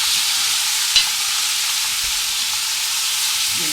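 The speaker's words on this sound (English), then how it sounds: "I'm just going to sear this a little bit." Beef marinated overnight in Lea & Perrins sauce sears in a hot pan, giving a steady, loud, continuous sizzle close by with one brief clink of the utensil.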